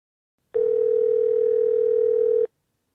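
A steady electronic telephone tone heard just before a call is answered on speakerphone, one continuous, loud, even pitched beep lasting about two seconds, with silence before and after.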